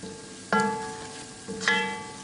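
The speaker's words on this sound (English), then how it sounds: "again give it a stir and just give that a minute so that the spices blend in and cook" Spices in butter chicken sauce sizzle quietly in a pan while a spoon stirs through, giving two sharp clanks against the pan about a second apart over the soft steady frying hiss.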